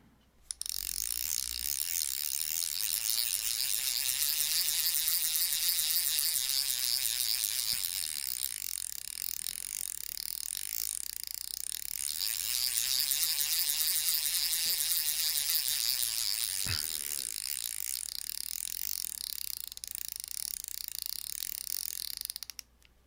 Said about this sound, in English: this is the Engetsu 100 HG, which is pretty much a saltwater version of the CURADO 70.